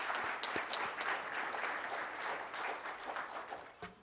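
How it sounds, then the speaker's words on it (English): Guests at a Rotary Club luncheon in Tulsa get a round of applause, fairly quiet and distant, the clapping swelling and fading gently before a sharp final clap. "Let's give all of our guests a round of applause."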